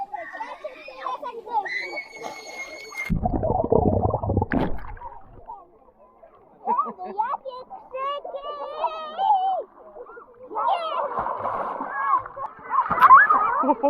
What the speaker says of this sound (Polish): Dlaczego na chłopca chlapiesz?